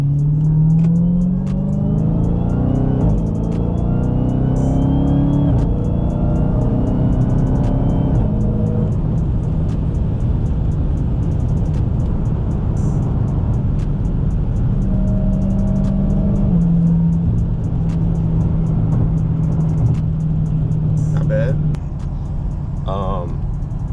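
A 2020 Dodge Charger SRT Widebody accelerates on the road to pass trucks, its engine note rising and falling in pitch through gear changes as it pulls hard, a loud, steady roar from inside the car.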